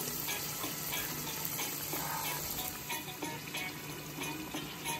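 Jamaican fried dumplings fry in oil in a pot over medium heat, a continuous soft bubbling sizzle heard up close with some faint clinks, no voices.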